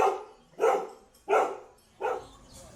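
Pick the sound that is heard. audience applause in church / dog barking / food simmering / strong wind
dog barking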